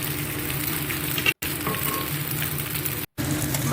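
Pasta tossed with spices sizzles steadily in a hot pan, a close, even frying hiss broken by two brief silent gaps.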